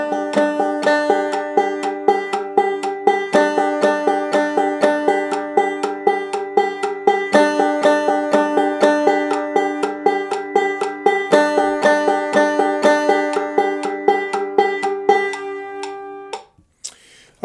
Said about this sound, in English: I'm gonna start with the check pattern, which is just a double thumbing pattern.